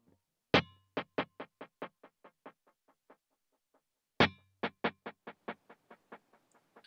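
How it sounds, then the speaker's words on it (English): Two sharp electric guitar notes each trail off into a rhythmic series of fading echoes from a dual delay at 70 beats per minute, the repeats bouncing in a steady, decaying pattern. "The first one is a dual delay at 70 beats per minute."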